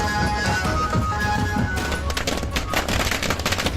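Fireworks crackle during a village celebration supporting the state government, a loud, dense burst of rapid rattling bangs that continues throughout.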